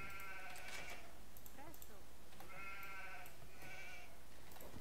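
Goats in an Age of Empires match bleat in several short, wavering calls, one after another, faint and close under quiet game ambience.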